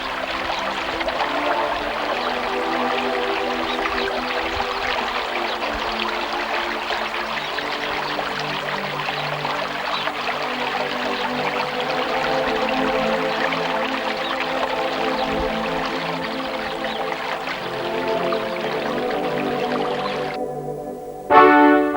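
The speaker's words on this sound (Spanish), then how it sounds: "Este río que cruza Sacramenia con el mismo nombre del pueblo, en tiempos de los conquistadores, se llamó Río Torrullas." The Río Duratón flowing near Sacramenia, heard as a steady, continuous rush of water with no voices, holding an even level throughout before a brief louder bump at the very end.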